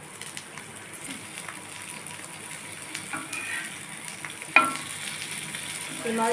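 Slices of elephant foot yam fry in an oiled pan with a steady close sizzle, broken by a brief utensil clatter, and a voice speaks briefly over the frying.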